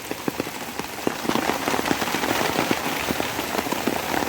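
Heavy rain pours down steadily on a garden smallholding in Phatthalung, Thailand, a dense continuous hiss with sharp drops spattering close by on surfaces throughout, no voices.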